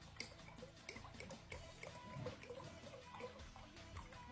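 A drink poured in a steady trickling stream, close and quiet, with faint dripping and splashing and no talking.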